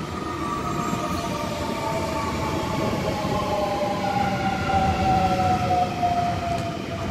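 The rear four cars of an M set passenger train, oldest and newest sets coupled together, roll past loudly with continuous wheel rumble and a rising, sliding whine across the whole stretch.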